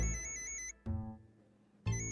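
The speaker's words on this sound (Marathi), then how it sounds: "अरे हिचा फोन आहे" A mobile phone ringtone plays a repeating electronic melody, stopping briefly twice before starting again, moderately loud and alone with no talk.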